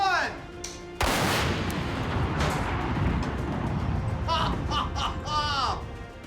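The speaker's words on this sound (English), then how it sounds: "The largest explosion in Mythbusters history." A cement truck packed with about 5,000 pounds of explosives detonates in a huge, loud blast, its deep roar and rumble rolling on for several seconds, with faint, distant voices cheering near the end.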